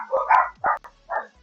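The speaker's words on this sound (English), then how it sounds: "I don't know why the dogs are barking so much." Dogs bark in three sharp, loud bursts close by, with short gaps between them and no other sound.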